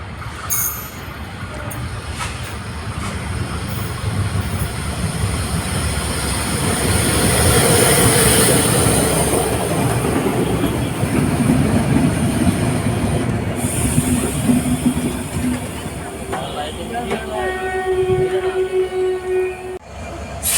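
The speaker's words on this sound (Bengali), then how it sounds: "এই পাশ থেকে একটা ট্রেন আসতেছে ওই তো দেখতে পাচ্ছেন" A train rumbles past nearby on the line between Joydebpur and Mouchak, Bangladesh, its steady roar swelling in the middle with a high metallic wheel squeal, then easing off with faint clanks.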